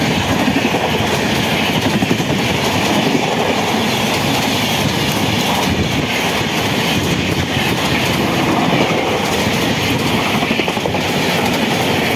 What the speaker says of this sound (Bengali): সেই গেল পাঞ্জাব মেল